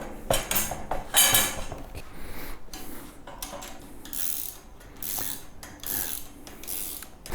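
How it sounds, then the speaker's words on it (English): Ratchet clicking while tightening a bolt during JK270 assembly, in uneven bursts of metallic clatter and rubbing with brief pauses between strokes, close up. "We're going to tighten up the bottom one as well."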